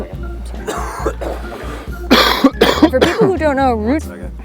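A few rough coughs and a throat clear sound close by, mixed in with people talking.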